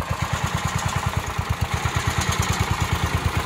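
A rebuilt Cub Cadet 316 hydrostatic tractor engine runs steadily with a fast, even low thumping rhythm and faint mechanical clatter, close and continuous without voices.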